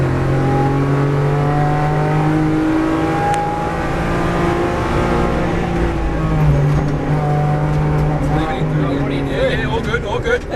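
Race car engine held at a steady high drone with rising harmonics as it accelerates on a track, loud and continuous throughout, with a driving instructor's voice over the engine.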